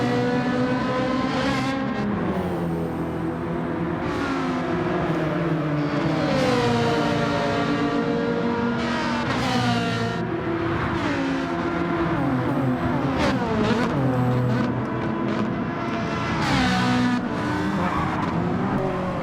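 Race cars in Gran Turismo 7 roar steadily, engine pitch sweeping up and down with each gear change, and other cars snarl close by through the whole run, with occasional tyre squeal.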